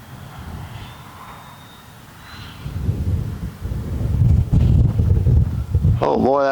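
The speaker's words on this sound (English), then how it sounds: "Oh boy, that wind's kicking up." Wind gusts buffet the microphone at an RC flying field on an overcast day, a low rumbling roar that builds steadily louder and stays strong, with a brief tonal whine near the end.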